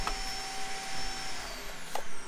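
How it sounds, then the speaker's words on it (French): A household vacuum cleaner runs nearby during a paper craft session, a steady whirring drone with faint tonal whine, continuous and even, with a brief bump of handling noise near the end. "vous entendez peut-être mon aspirateur"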